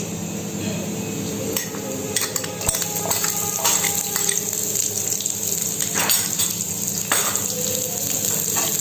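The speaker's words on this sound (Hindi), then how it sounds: "ये थोड़ा सा फ्राई हो रहा है। अब मैं इसमें ओनियन ऐड करूंगी।" Onion frying in a pan for white sauce pasta, a steady close sizzle with scattered clinks and stirring scrapes running throughout, with no talk over it.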